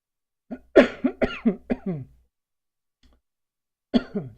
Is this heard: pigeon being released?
no